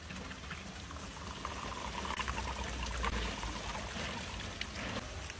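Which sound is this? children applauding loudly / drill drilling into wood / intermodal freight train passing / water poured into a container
water poured into a container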